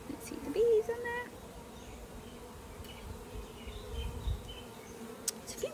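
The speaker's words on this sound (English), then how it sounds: "There's a few bees coming in and out." Bees buzzing faintly around a beehive as a few come and go, a low steady hum with brief louder passes near the start, over soft outdoor background.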